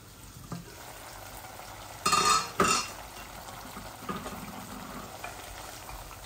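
Tilapia fish frying with radish, onion and garlic in a pan, a steady low sizzle with two short louder bursts of hissing or stirring partway through.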